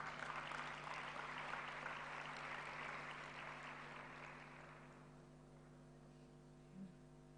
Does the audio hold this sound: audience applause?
yes